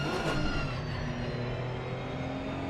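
A Porsche 992 Cup race car at Zandvoort accelerating at full throttle, its engine a loud, steady rising drone heard from inside the cockpit for the whole moment, with no talk over it.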